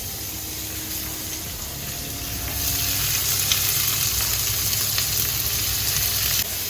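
Large-cut onions sizzle in a hot pan, frying loudly and steadily, and the sizzle grows louder partway through. No one speaks.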